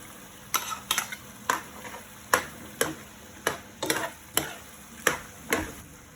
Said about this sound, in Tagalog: Haluhaluin lang natin yung kapsat hanggang sa maluto.